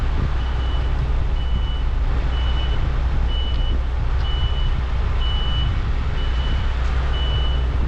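A collection truck's reversing alarm repeats steady, evenly spaced high beeps about eight times over a loud, continuous diesel engine rumble, with no one speaking.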